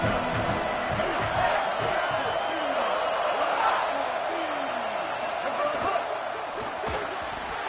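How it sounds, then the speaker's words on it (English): A home crowd cheers loudly and steadily in a college football video game, a dense roar running throughout beneath a commentator's talk. "how nice is it to have the home crowd going absolutely bananas?"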